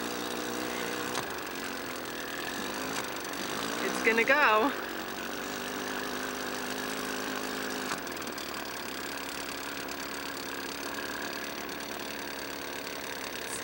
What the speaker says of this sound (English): The engine sounds a little bad.